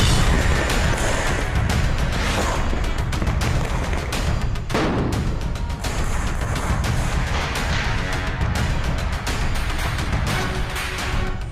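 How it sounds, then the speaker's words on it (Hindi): Firecrackers burst continuously in dense, overlapping pops and booms during Diwali in Delhi, loud and unrelenting for the whole stretch. "तमाम पाबंदियों के बावजूद दिल्ली वालों ने जमकर पटाखे फोड़े।"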